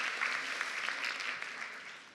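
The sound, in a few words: audience applause at a conference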